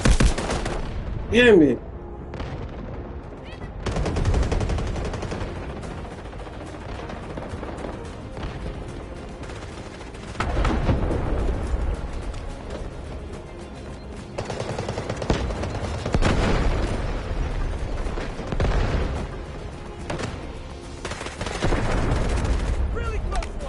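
Sustained automatic gunfire in the Delta Force video game, rolling bursts and rapid shots close and loud across the whole stretch, with someone talking over it briefly.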